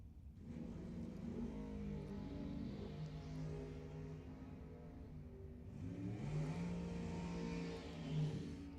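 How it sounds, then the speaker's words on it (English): Drag racing engines at a dragway, a 1966 Mercury Comet paired against an Ed Quay dragster: a loud, steady roar of revving motors that swells again in the second half, with no talking. "Next pair, Jason Day. 66 Mercury Comet, interesting body style, up against Zach Rothenberger in the Ed Quay Dragster"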